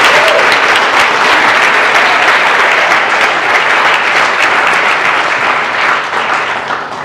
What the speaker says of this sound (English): And a round of applause for a highly commended in this category